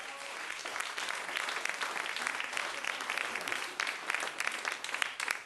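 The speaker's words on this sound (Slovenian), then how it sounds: "En aplavz zanj, on je vedel." An audience claps at a live radio show with a band performing. The applause is steady and dense, with crowd noise all through.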